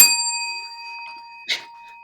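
A small bell rings once with a sustained, slowly fading tone, then takes a brief second clink about halfway through, with no talk over it.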